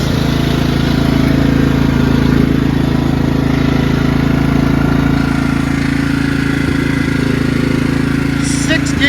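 A Craftsman lawn tractor with a 14HP Kohler engine runs steadily nearby, a loud, even, droning engine note that holds constant throughout with no break.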